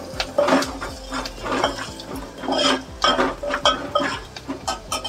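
Tomatoes go into a cooking pan of sautéed ingredients and get stirred, with repeated metallic scrapes and clinks of a spoon against the pan in a steady, busy rhythm, close and fairly loud.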